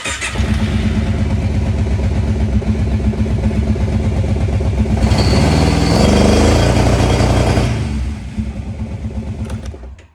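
A 2004 Arctic Cat 650 V2 engine with a belt fault runs steadily in limp mode, held at partial RPM with a close, loud, rough drone that rises slightly midway and then drops back near the end.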